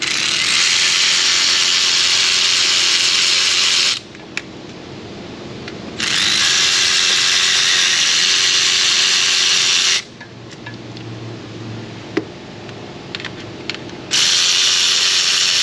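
Power tool loosening injector fasteners on a Duramax 6.6 diesel engine, heard as three loud sustained bursts of buzzing ratcheting with quiet gaps and small clicks between them.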